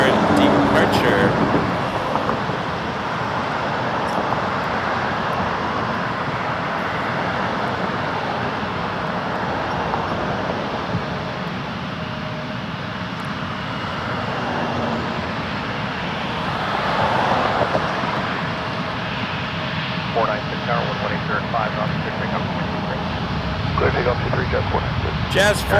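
A Jazz regional jet on departure at Toronto Pearson rumbles steadily in the distance and swells toward the end, while a voice talks over it.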